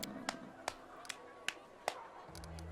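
Clapping by a character in the fantasy role-playing game Pathfinder: Wrath of the Righteous, heard as a handful of slow, evenly spaced crisp claps over quiet background ambience, fairly faint and without speech.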